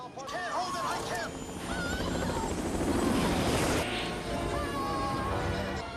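A helicopter from the film Superman (1978) churns under a dense layer of chaotic movie sound, with crashing, shrill tones and voices mixed in, loud and continuous throughout.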